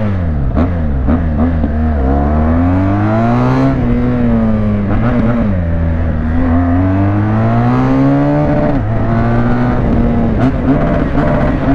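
A BMW R1200 motorcycle engine drones steadily while riding, its pitch swelling and dipping with the throttle in a close, continuous note.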